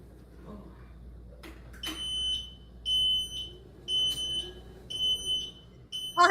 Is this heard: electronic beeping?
yes